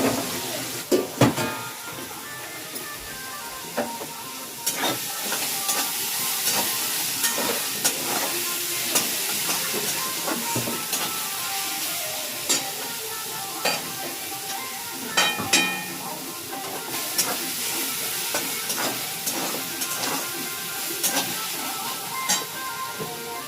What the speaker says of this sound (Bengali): তেলের মধ্যে পেঁয়াজটা দিয়ে দিলাম।